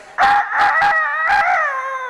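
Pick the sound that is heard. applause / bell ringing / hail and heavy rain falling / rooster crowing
rooster crowing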